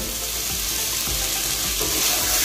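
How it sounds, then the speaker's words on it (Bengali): Fried eggs go into a pan of sizzling masala for Bengali egg tarka, giving a steady, loud frying hiss with a few soft clunks and stirring scrapes, no voices. "এবার আমি ডিম ভাজাটা দিয়ে দিচ্ছি।"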